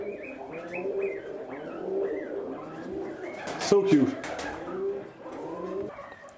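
Soft, low homing pigeon coos and murmurs repeat under a person speaking briefly, with a few chirps scattered through the background.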